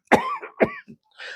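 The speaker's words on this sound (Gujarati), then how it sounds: "ગમે ત્યાં દબાવો ઉધરસ આવવા જ પડે" An older man with a 25-year condition that makes him cough whenever pressure is applied to his body gives two sharp, close coughs in quick succession, followed by a softer throaty sound.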